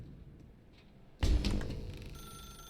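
A telephone rings loudly and suddenly in The Stanley Parable: Ultra Deluxe, a single sharp bell burst after near silence, then ringing on with a fading tail.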